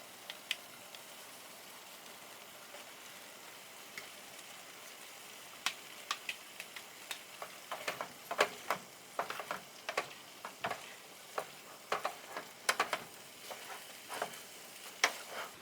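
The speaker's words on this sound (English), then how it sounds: "Now I'm going to mix the pasta." Vegetable pasta is stirred in a pan over a soft, low sizzle, with scattered clicks and scrapes from the utensil that grow busier in the second half, close and fairly quiet with no talking.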